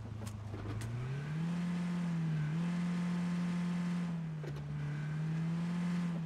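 A car engine revs in the video game PUBG, a loud steady drone that rises early then holds at a sustained pitch, with a few sharp knocks over it.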